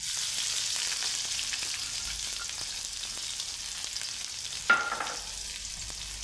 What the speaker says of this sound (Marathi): कांदा थोडा परतवून घ्यायचा आहे.